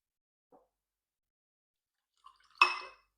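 Liquid poured for a science experiment: a faint soft plop, then after a pause a short, close splashing pour that fades out quickly, with no other sound around it.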